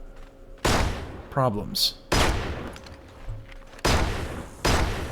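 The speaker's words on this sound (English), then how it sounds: "And now I'm shooting into the air." In the mobile shooting game Six Guns, gunshots are fired into the air: four loud, sharp cracks spaced irregularly, each with a short decaying tail, with brief game sounds in between.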